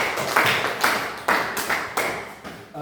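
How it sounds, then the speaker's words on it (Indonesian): An audience in a classroom applauds after a lesson on AI, giving a short, close run of evenly spaced, loud claps, roughly six beats in under three seconds. "Iya, berikan aplaus kepada."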